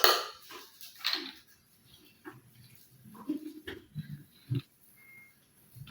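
Orange cake batter being mixed by hand in a bowl, with scattered scraping and clinking knocks of the utensil against the bowl, irregular and fairly close, some louder taps near the end, no talking.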